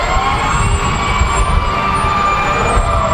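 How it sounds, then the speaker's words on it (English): Oneida fire trucks rolling past in a Christmas parade, a steady wailing siren tone over engine rumble and crowd noise, continuous and fairly loud throughout. "and the fire trucks, the Oneida fire trucks, fire engines"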